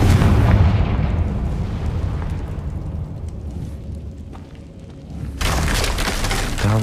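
A Confringo blasting spell in Hogwarts Legacy erupts as a loud, booming explosion with crackling debris that slowly decays, then a second heavy burst of rumbling noise arrives near the end.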